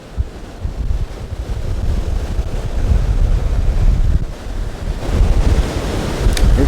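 Ocean surf breaks irregularly against the rocks at Cape Banks, Sydney, during rock fishing: a steady, loud, close wash of waves with gusty wind buffeting the microphone and surges rising and falling throughout.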